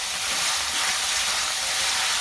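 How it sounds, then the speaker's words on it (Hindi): Ginger and garlic fry in a hot pan, producing a loud, continuous broadband hiss and sizzle, close up and unbroken for a couple of seconds. "और इसको फिर से हम अच्छे से अदरक लहसुन को 2 मिनट के लिए भून लेंगे।"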